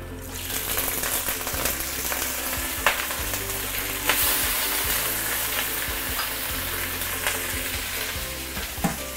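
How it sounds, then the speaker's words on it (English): Prawn shells fry and splatter in a hot wok over high heat, making a loud, continuous crackling sizzle with sharp pops and occasional scraping stirs. "Be careful when you want to add in your prawn shell because it's going to splatter"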